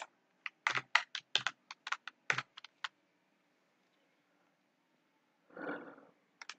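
Computer keyboard typing a website title, a close run of quick, uneven key clicks that trails into silence, followed by one brief soft rustle near the end.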